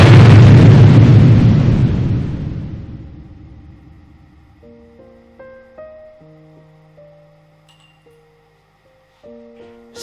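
A huge explosion booms and rumbles up front, decaying over several seconds into a low wartime din, followed by quieter scattered tones and hums that fade toward near silence before a final faint swell.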